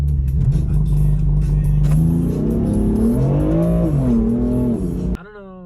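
A BMW M4 launches hard using stock launch control, its engine roaring up through the revs in a loud, rising surge before cutting off abruptly near the end.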